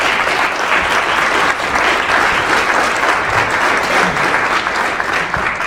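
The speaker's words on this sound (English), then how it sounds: "let's have a quick applause for Nicole" An audience at a business association summit gives steady, dense applause that stays loud and even from start to finish, with no speech over it.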